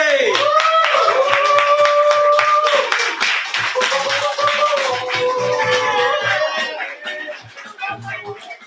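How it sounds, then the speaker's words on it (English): At an open mic poetry slam, an audience claps briskly as a performer walks to the stage, with whooping, high-pitched cheers over the clapping before it thins out toward the end. "Clap until Chris gets to the stage."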